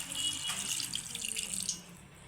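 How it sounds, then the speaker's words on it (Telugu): Water is poured into a pan of mutton curry on bones, a close, continuous splashing trickle lasting about two seconds before it tapers off, with no talking. "ఇప్పుడు కొంచెం వాటర్ పోసుకుందామండి."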